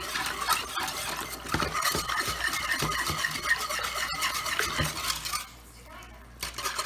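A spoon scrapes and stirs around the sides of a pot of flour mixture on the stove, steady close clatter with faint sizzling underneath, ending in a brief quieter moment.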